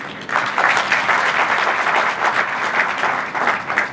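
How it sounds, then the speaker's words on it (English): An audience at a college guest lecture on molecular diagnostics breaks into loud, dense applause that continues steadily for several seconds. "all of you require a round of good applause"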